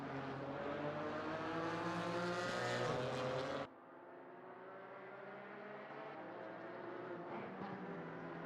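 Engines of GT4 race cars, including a BMW, on the Zandvoort circuit in the ACC racing game: a loud, steady engine drone with harmonic whine that drops abruptly at a gear change or lift, then continues lower and quieter.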